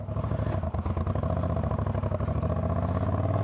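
Moto Guzzi-style V9 Bobber motorcycle with cable-operated clutch, its engine and exhaust running in a loud, steady, throbbing idle with a deep rhythmic pulse, close by and heard alone.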